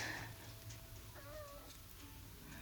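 A small rescue kitten gives one faint, rising-and-falling meow midway through, heard indoors against a quiet background hum.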